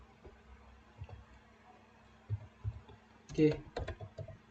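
Keys clatter on a computer keyboard in scattered taps, ending in a louder cluster of strokes like an enter press, heard close over quiet room tone.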